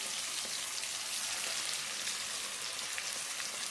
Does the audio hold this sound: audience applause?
no